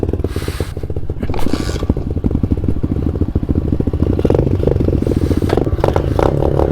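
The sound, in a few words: pit bike being ridden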